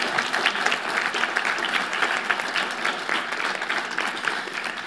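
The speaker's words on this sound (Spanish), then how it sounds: "Un aplauso," An audience at a reading-promotion event with poetry and a musical duet breaks into steady, dense applause that carries on evenly for several seconds without any voices.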